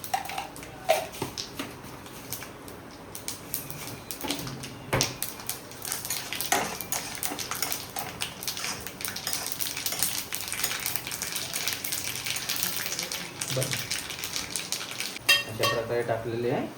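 Mustard seeds and curry leaves fry in hot oil in a pan for a spiced potato fry, giving a steady crackling sizzle with scattered pops and utensil clinks throughout.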